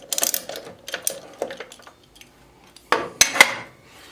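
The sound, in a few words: Allen wrench loosening miter saw laser screw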